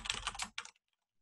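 A short burst of quick keystrokes on a computer keyboard while entering commands for a micro:bit in a Python terminal, close and crisp, ending abruptly in silence.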